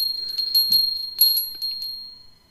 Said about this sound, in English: one of my other bells, is a very old bell